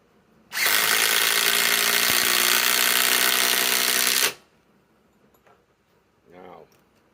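A cordless Skil impact driver drives a 4-inch timber screw in one loud, steady burst of about four seconds, then stops abruptly, followed by quiet handling noise.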